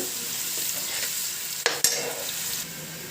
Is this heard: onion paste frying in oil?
yes